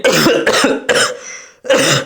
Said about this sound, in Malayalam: വിട്ടുമാറാത്ത ചുമയുണ്ടോ അല്ലെങ്കിൽ ഇടയ്ക്കിടയ്ക്ക് ഇങ്ങനെ വരുന്നുണ്ടോ